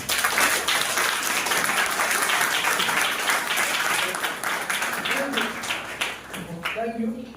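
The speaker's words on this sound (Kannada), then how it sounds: "ಎಲ್ಲರೂ ಸೇರಿ ಅವರಿಗೆ ಒಂದು ಚಪ್ಪಾಳೆ ಕೊಟ್ಟರು." An audience claps together at a Sunday school program, producing a full, sustained round of applause that gradually thins out toward the end as a voice begins speaking.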